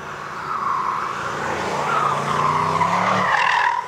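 A BMW iX M60 brakes hard and its tires skid, giving a sustained, loud rubber screech that swells and shifts in pitch for several seconds, close by and without voices.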